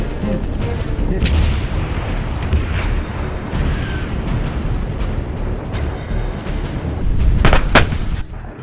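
Artillery systems fire during a joint Azerbaijan-Turkey military tactical exercise, producing a dense, continuous rumble of booms with a couple of sharper blasts near the end.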